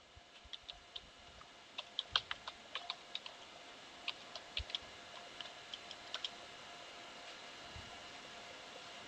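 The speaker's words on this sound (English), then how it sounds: "In new tab type your domain name." A domain name is tapped out on a computer keyboard, a quiet, close run of light key clicks in an uneven rhythm over faint steady background hum.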